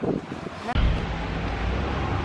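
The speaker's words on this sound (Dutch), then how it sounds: "Het waait wel verschrikkelijk." Strong wind roars in gusty broadband rumble against the microphone, with a brief cutout before it surges on loudly; faint voices may be mixed in early.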